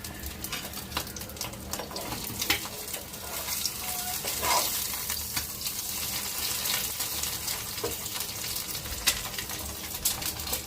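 Potatoes and small puti fish fry in a pan in a home kitchen, giving a steady, fairly soft sizzle with occasional stirring scrapes and sputters throughout.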